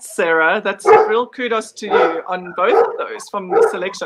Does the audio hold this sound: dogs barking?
yes